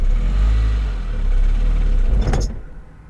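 A 2001 Saab 9-3 Turbo with a suspected blown engine idles with a deep, loud, rumbling drone that swells slightly, then a brief higher rattling burst near the end before the sound drops away.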